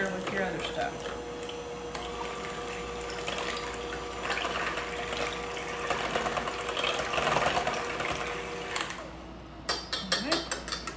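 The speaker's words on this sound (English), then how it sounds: "So first thing I do is I mix and beat the eggs." A KitchenAid stand mixer beats eggs with a steady whirring motor drone that runs unbroken throughout. Faint kitchen clatter and a voice sit under it.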